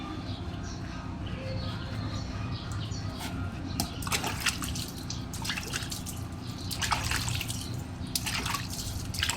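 A duck is bathed in water on a hot day, bringing irregular splashes and drips that cluster in bursts over a continuous low background hum, fairly close, with no clear talk.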